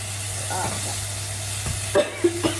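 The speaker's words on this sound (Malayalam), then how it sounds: "ചൂടായി നിൽക്കുന്ന സാധനത്തിലോട്ട് ഇങ്ങനെ എന്തെങ്കിലും വെള്ളമോ ഇങ്ങനെ തക്കാളിയൊക്കെ ഇടുമ്പോ ഒരു തിളക്കണ ഒരു കുഞ്ഞു സൗണ്ട്" Chopped tomatoes hit hot oil in a pan while egg biryani cooks, giving a soft steady sizzle and hiss, joined by a few scraping stir sounds near the end, close by and fairly quiet.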